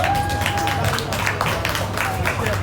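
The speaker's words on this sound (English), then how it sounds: "So please, a round of applause." Audience at a business networking event applauding steadily and loudly under crowd noise, with a voice talking over the clapping.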